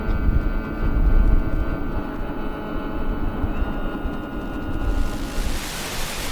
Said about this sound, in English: let's increase the altitude and increase my throttle